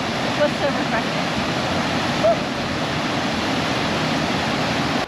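A Panama waterfall pours in a steady, loud broadband roar of falling water, constant and close with no pauses, filling the whole scene.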